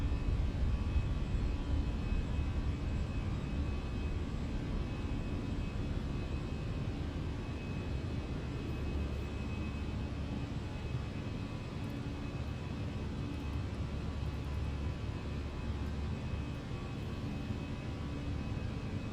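An Airbus A319 rolls down the runway and climbs out in Microsoft Flight Simulator 2024, its engines a steady, broad jet roar with a faint whine that holds evenly throughout, with no voices.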